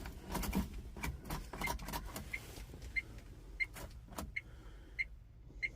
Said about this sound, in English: I'm trying to start this little ride, but it's not starting